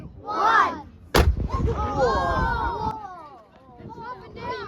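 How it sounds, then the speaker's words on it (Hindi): A single sharp, booming cannon blast, fired by TNT in Perth, Australia, rings out, followed by crowd chatter and excited voices continuing around it. "इसका ये रेड बटन दबाते ही अपनी वहाँ पे जो TNT है वो तोप में एक्सप्लोड हो जाता है"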